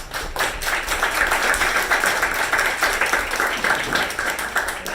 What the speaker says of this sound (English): let's applaud loudly so that it fills the air.